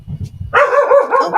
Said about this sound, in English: My dog is the ultimate watchdog.